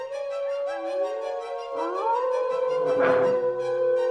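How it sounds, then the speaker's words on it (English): Wolves howl in a video game scene, with long sustained tonal cries rising and bending in pitch, one steady howl held throughout and others overlapping, loud and clear with no talking. "The howl of wolves."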